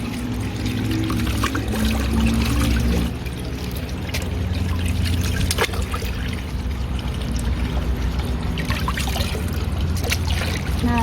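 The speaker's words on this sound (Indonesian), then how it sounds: "Kemudian kita aduk sampai rata." Potassium chlorate being stirred into about ten litres of water in a bucket, a steady sloshing, pouring swirl that runs continuously throughout at close range.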